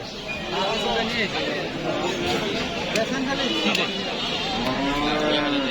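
Cattle lowing at the crowded Lauhati rural cattle market in Tangail, several drawn-out moos rising over a continuous din of people talking nearby.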